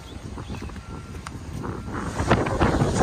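Wind at a beach in Maui buffets the microphone with a loud, rough, fluctuating rush that grows stronger toward the end, with no clear voices.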